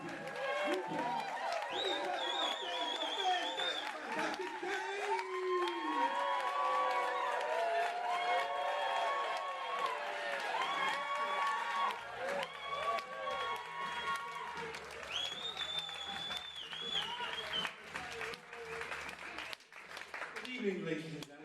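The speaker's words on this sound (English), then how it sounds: "Everyone clapping, everyone cheering, going crazy." Audience clapping and cheering at a comedy show, a loud, sustained wall of applause with whoops, mixed with a voice talking and shouting over the crowd throughout.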